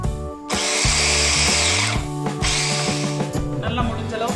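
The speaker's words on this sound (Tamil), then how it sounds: "அதனால நான் chopperல chop பண்ணிக்கிறேன் வெங்காயத்தையும் மல்லி ரெண்டையுமே நான் சேர்த்துக்கறேன்" Electric kitchen chopper chopping onion and coriander, two loud whirring bursts with a short stop between and a clatter at the end, close up with no talk.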